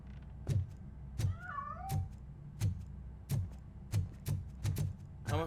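A cat meows in the video game Robocop Rogue City, a single short, rising-and-falling meow early on, heard over steady, heavy, evenly spaced footsteps.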